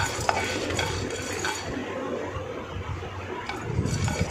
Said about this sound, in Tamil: 2 டேபிள் ஸ்பூன் கடலைப்பருப்பு எடுத்து அதையும் சேர்த்து வறுத்து விடுங்க.